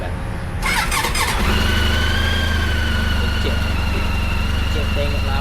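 A motorcycle engine starts up and settles into a steady idle during a pre-work check, close and fairly loud, with a high whine over the low rumble.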